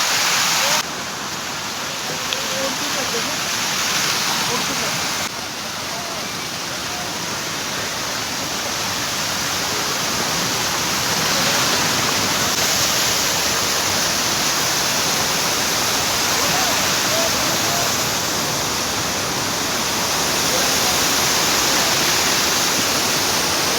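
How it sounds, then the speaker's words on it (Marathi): Steady roaring rush of fast mountain water on the Brahmagiri trek near Nashik, loud and continuous throughout, like a torrent tumbling over rocks, with no other sounds standing out. "पाणी वाटतंय जरा गती आहे"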